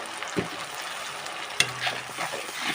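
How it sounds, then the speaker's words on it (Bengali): Grated tomato stirred into fried onion and spices in a pan, with a steady close sizzle and a couple of sharp utensil knocks and scrapes against the pan. "মিশিয়ে দিলাম এবারে একটু ভালো করে কষিয়ে নেব"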